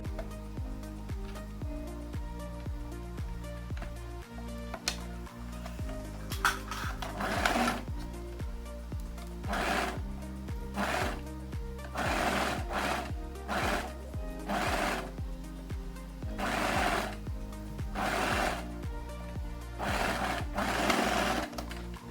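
Sewing machine stitching a maxi dress seam from the shoulder point to the back armhole, running in a steady hum with short stop-start bursts of faster stitching, close and clear with no talking.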